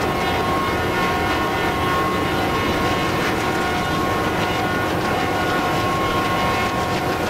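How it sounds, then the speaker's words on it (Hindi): A passenger train with general coaches rolls past in an Indian Railways train simulator game, a steady loud rumble of rail noise with a faint horn-like tone running throughout, no voices. "यार बड़े सारे जनरल कोचिज हैं इसमें, कोई पैसेंजर ट्रेन है क्या?"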